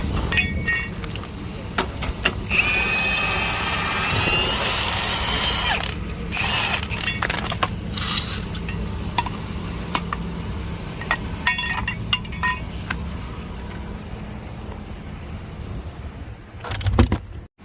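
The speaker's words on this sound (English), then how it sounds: "take your factory lug wrench here and spin it down, and that'll lower the vehicle down counterclockwise like so" A factory lug wrench cranks the jack down to lower a Chevy Blazer, giving repeated metallic clinks and ratcheting clicks over a steady background hum, with a louder clatter near the end.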